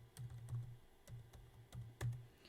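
Typing on a computer keyboard, a quiet, close series of irregular key taps and clacks with a few sharper strokes, no voices.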